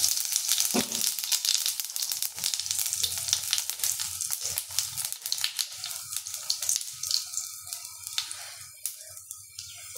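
Two bay leaves and cumin seeds fry in a tawa on a stove, giving a steady, close, fairly loud sizzle that hisses on its own and eases slightly toward the end.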